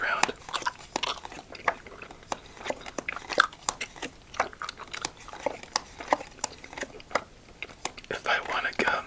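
Close, intimate chewing of spearmint gum with wet smacks and clicks in an irregular rhythm, mixed with soft whispering.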